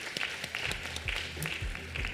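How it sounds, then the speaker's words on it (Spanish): Audience applause at a dental aesthetics congress awards ceremony, a steady wash of many hands clapping at moderate level with a few murmured voices underneath. "un fuerte aplauso para ellos"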